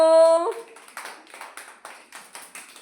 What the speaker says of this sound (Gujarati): બાળકો તાળી પાડો.